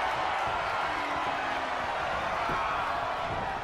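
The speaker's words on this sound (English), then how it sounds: "The sound of this crowd is deafening." A wrestling arena crowd roars as one continuous, dense wall of noise at a steady level, with no clear bursts of cheering standing out.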